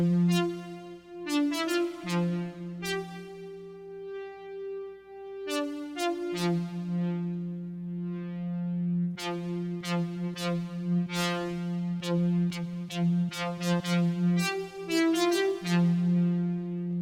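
A bright deep house synth lead plays a repeating melodic phrase of held and clipped notes over a low sustained tone, steady and unaccompanied by voices.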